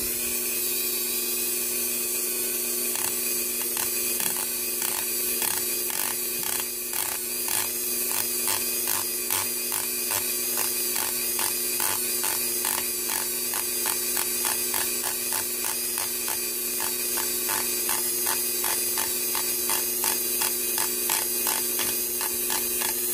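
A small rotary drill bit skipping across a copper Kershaw Natrix knife handle to speckle it, heard as a steady high motor whine with a rapid, regular series of close ticking contacts, loud and continuous without talk.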